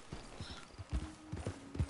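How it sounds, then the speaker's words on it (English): Horse hooves clip-clop at a walking pace in the game Red Dead Redemption 2, a quiet, fairly close, uneven run of soft thuds with no talk over them. "Is that a horse?"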